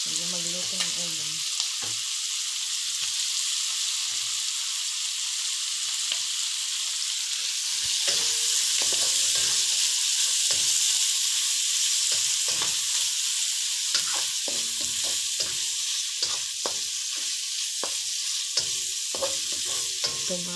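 Fried rice with ham sizzles in a pan, a steady bright frying hiss broken by repeated clinks and scrapes of a spatula tossing the rice, close and loud with no talking.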